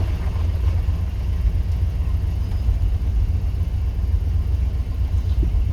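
A car engine holds a raised idle with the clutch in during troubleshooting after transmission upgrades, a steady low rumble and whir that stays even and close for the whole stretch.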